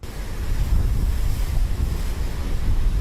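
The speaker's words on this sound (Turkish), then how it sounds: "Deniz görmüş olduğunuz gibi oldukça dalgalı. Fazlasıyla dalgalı hatta." Rough Black Sea waves pound the shore in a continuous heavy roar, loud and near, with strong wind buffeting the microphone throughout.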